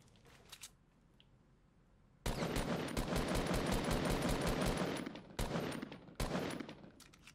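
A double barrel shotgun fires in the video game Fortnite. A few faint shots come first, then a loud, dense run of gunfire, broken by brief gaps and two more bursts near the end.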